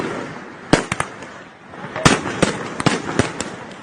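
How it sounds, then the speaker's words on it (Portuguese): Fireworks are fired at the Supreme Federal Court building in Brasília, giving a series of sharp loud bangs and crackles, some in quick pairs, over a low background murmur. "Um grupo com cerca de 30 pessoas lançou fogos de artifício contra o prédio do Supremo Tribunal"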